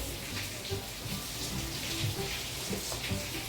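Freshly brewed coffee trickles through a cloth strainer in a steady, soft splashing stream, close by and constant, with no speech over it.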